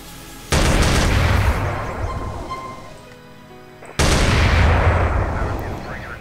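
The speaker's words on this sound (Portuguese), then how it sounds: "Temos aqui a shotgun, a escopeta shotgun de combate, que tá muito louca também, ó, do Counter Strike." A combat shotgun fires in GTA San Andreas using a Counter-Strike weapon pack. Two loud, close blasts come a few seconds apart, each a sharp crack followed by a long rumbling decay, with no talking over them.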